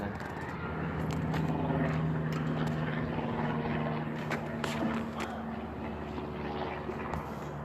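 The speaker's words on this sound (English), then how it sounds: "this freaking private plane passing right now. And then this helicopter right here." A small private propeller plane and a helicopter pass overhead outdoors, their engine drone steady and fairly loud for the whole stretch, with scattered faint background noise.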